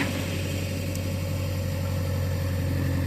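A jugaad-built tractor fitted with a Mahindra silencer runs at a steady idle, giving a continuous low, throbbing rumble that stays close and even throughout, with no talking.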